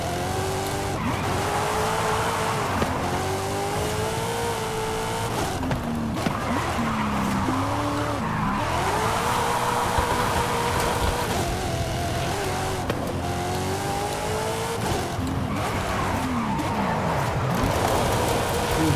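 Race car in a racing video game played on a Thrustmaster wheel, drifting with repeated long tire squeals over a revving engine whose pitch rises and falls through several slides, loud and close throughout.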